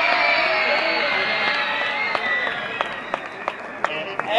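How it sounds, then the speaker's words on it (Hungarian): Crowd applause and scattered clapping at a live outdoor festival concert in Komárom, with sharp individual claps standing out toward the end and voices mixed into the noise. "Nagy tapsot kérünk szépen Eperkének!"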